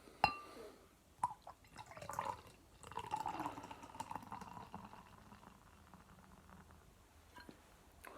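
Bottle-conditioned Greene King Heritage Vintage Fine Ale poured from the bottle into a glass: a few sharp clinks and drips, then a steady liquid gurgle and fizz that thins into soft trickling, close and fairly quiet, with no talk.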